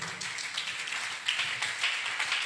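Church congregation clapping during a sermon, a steady patter of many hands with overlapping claps, moderately loud and continuous with no voices over it.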